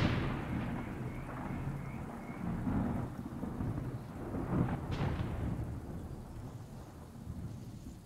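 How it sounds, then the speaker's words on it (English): Deep rolling thunder rumbles through a steady rain during a storm at a golf course, the low grumble swelling and fading over several seconds with a brief crack in the middle, moderately distant and alone. "There's a lot of thunder."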